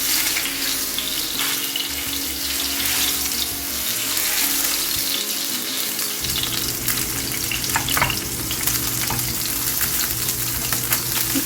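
Salmon steak frying in olive oil in a hot pan gives a steady, close sizzle that runs the whole time, with some louder crackle partway through and no talking.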